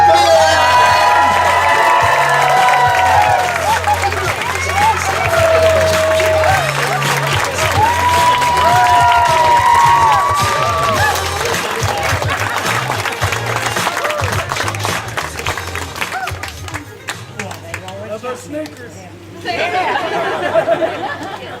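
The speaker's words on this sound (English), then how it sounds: "let's have a round of applause to our bride and groom, Becca and Greg" Wedding guests applaud and cheer for the bride and groom, a sustained wash of clapping, whoops and crowd chatter lasting about twenty seconds before thinning out, with voices talking and calling throughout.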